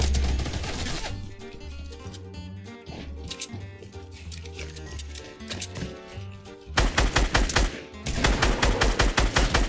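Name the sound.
gunfire from the video game Fortnite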